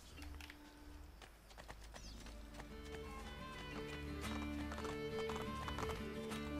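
Hooves clip-clop in a running rhythm and a horse whinnies in the video game Assassin's Creed Brotherhood, with a game music bed underneath, moderately close and steady.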